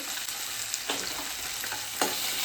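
Ginger garlic paste fries in a pan with a constant close sizzle, broken by a few soft stirring scrapes.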